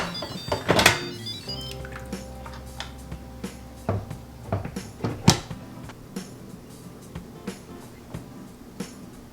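An Instant Pot pressure cooker lid being unlocked and lifted after natural pressure release, with a sharp metallic clunk and rattle near the start, then scattered light knocks and handling clicks close by.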